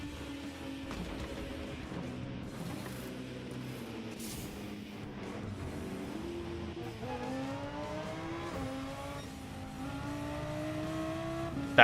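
A race car in a racing video game accelerates out of the pits, the engine note steadily rising in pitch through gear shifts, moderately loud against a wash of background car noise.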